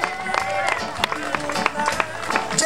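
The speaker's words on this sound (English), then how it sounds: "Give a round of applause for Megan" Crowd applauding a surf contest winner at a women's surfing event, brisk clapping mixed with cheering and chatter, fairly loud and continuous through the short stretch.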